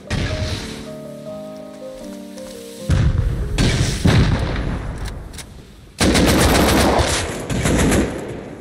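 Gunfire in the video game Rust comes as loud bursts of rapid automatic shots with booming reports, separated by short lulls, over a rough, rain-like background wash.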